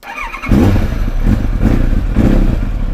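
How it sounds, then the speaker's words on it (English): A 1995 Kawasaki ZX9R Ninja B1 motorcycle, an older project bike, cranks briefly and fires into a loud, steady idle close to the microphone. "turn the key, fire it up"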